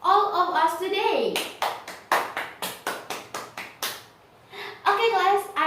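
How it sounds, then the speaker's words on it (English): Classroom applause from students, a burst of separate sharp claps in an uneven rhythm, with a teacher talking before and after it. "class, give applause for all of us today"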